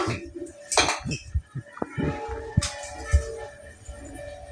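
Plates, dishes and utensils clink and scrape while rice is served at home for a simple lunch, several sharp knocks and rattles at close range with no talking.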